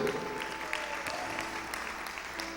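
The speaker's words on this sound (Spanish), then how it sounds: "Denle un aplauso al Señor" A church congregation applauds during a Spanish-language sermon, giving a steady, dense wash of clapping at moderate level that carries through without pause.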